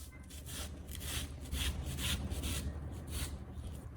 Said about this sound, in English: First, I completely remove the watermelon flesh from the rind.